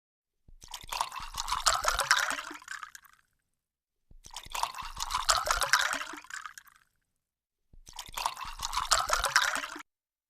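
Water pouring or dripping into a container in three separate bursts of about two and a half seconds each, with silent gaps between them, close and moderately loud.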